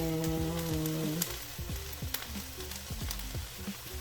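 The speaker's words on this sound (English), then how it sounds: "Sauteing my kale." Kale sautéing in a pan on a stovetop, a soft steady sizzle with light stirring scrapes and clicks, close by, alone with no talk and a few faint tonal sounds in the first second.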